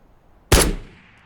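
An M1A SASS rifle fires in the video game Escape from Tarkov: a single loud, sharp shot with a short echoing tail and no talking.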